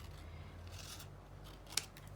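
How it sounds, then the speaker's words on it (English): Scissors cut through linen fabric while a faux postage stamp is trimmed from scraps, a single crisp snip standing out near the end over a quiet room hum. "I just basically eyeball where I think I want to cut it."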